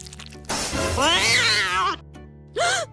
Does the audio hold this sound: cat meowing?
yes